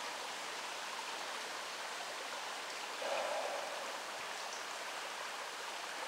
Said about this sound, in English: The South Fork, Swift Current Creek burbles by.